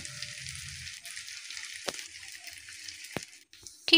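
A thick corn flatbread fries in a pan, a soft steady sizzle with a few sharp clicks and a brief clatter at the end, close and fairly quiet.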